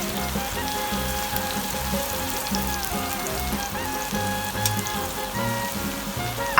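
Onions frying in a pan to a crispy brown, a steady dense sizzle and crackle running continuously at close range with no voices.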